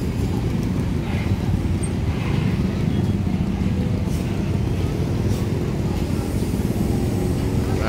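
Jammed traffic crawling through Jogja city streets, a dense steady rumble of engines and motorbikes close by, with voices talking over it.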